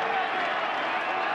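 Crowd noise from a packed stadium at a 2008 NLCS baseball game between the Phillies and Dodgers, a steady broad roar of cheering fans for a brief moment.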